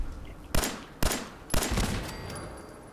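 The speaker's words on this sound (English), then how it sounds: "We're getting shot at again." Turret gunfire in Fallout 4, three sharp loud bursts spaced about half a second apart, the last trailing into a rattling tail, heard alone without talk.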